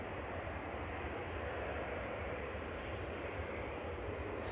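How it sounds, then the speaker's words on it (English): A Qatar Airways airliner taxis out at Manchester Airport, a faint steady jet engine rumble and whine heard from a distance, continuous and unchanging. "Qatar's rolling as well, there's taxiing out now."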